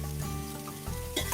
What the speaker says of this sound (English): Cook the onions and peppers until they start getting some color on them